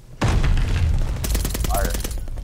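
A grenade blast in the shooter game Call of Duty Vanguard hits with a sudden loud boom, followed by a rumbling tail and a second burst of crackling gunfire-like impacts close up.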